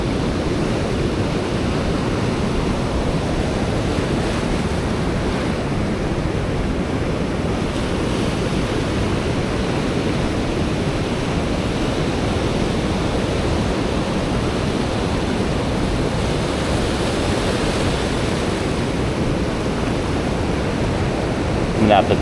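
Ocean waves surge and wash around a beach in a continuous, broad roar of surf mixed with wind, steady and close throughout with only slight swells in intensity.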